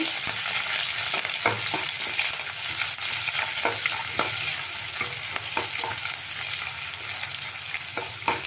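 Onions and curry leaves frying in a pan for brinjal palya, a loud continuous sizzle with frequent spatula scrapes and taps, close up and with no talk.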